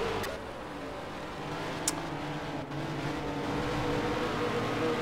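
Race car engines from the video game Project CARS drone steadily at moderate level through the whole stretch, with a couple of brief sharp clicks and no talk over them.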